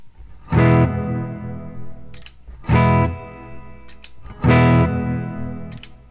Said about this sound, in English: if I add this reverb pedal, you should hear more